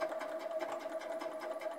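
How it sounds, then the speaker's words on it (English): A sewing machine runs a simple straight stitch along a long sleeve, giving a steady, rapid mechanical whir with a faint rhythmic tick. It sounds close and continuous, with no talking. "This time I'll do a simple straight stitch."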